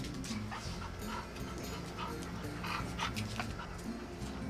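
A dog pants rapidly and steadily while playing with a stick outdoors, close by, with faint whimpers and a voice talking in the background.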